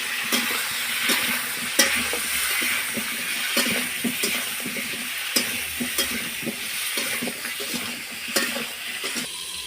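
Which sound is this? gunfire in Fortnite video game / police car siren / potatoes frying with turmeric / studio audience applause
potatoes frying with turmeric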